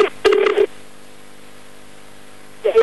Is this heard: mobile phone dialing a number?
yes